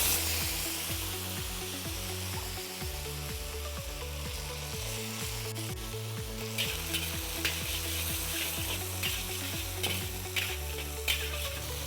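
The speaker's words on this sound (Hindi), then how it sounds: "अब इसके अंदर हम छौंकेंगे मटर।" Steady frying sizzle close by as peas are tempered in hot oil, crackling under a low rhythmic clatter of stirring, continuous for the whole stretch with no talking.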